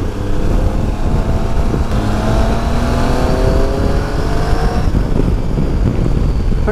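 A Triumph Tiger 800 motorcycle engine drones steadily in third gear while riding a road strewn with small rocks, loud and close with a rising whine and steady wind roar throughout.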